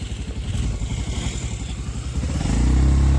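A motorcycle engine idles with a pulsing, uneven beat, then revs harder near the end as the bike pulls away, loud and close, with a light clatter and no talk over it.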